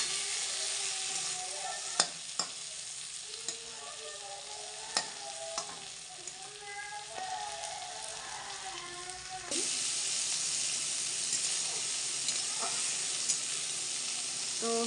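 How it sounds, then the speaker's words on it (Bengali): Flat beans (shim) frying in a pan give a steady, close sizzle and hiss that runs throughout, with occasional spatula taps and stirring scrapes, growing slightly louder partway through. "এখানে সিম ভাজা করছি।"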